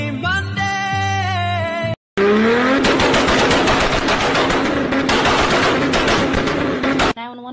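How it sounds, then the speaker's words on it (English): Rapid, loud bursts of gunshots fire almost continuously for several seconds, very close and dense, following a sustained musical tone and cutting off abruptly, with no clear talking. "I hear shots!"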